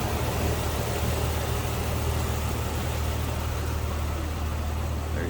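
A 1999 Jeep Wrangler Sport's inline six idles smoothly and steadily, a constant low rumble with a broad hum that holds level throughout, with no talk over it.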